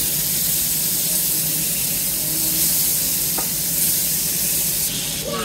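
Butter sizzles steadily in a pan while cooking chicken adobo with liver, a continuous bright crackling hiss with a brief scrape partway through.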